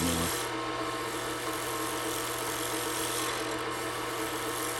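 A lathe turns a resin and Fordite pen blank while a cutting tool works down a fat taper, making a steady, loud, continuous scraping hiss over a constant motor hum, with no pauses and no talk.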